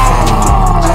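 A Ferrari sports car's engine revs hard at close range, a loud, dense, unbroken roar that holds steady through the whole second.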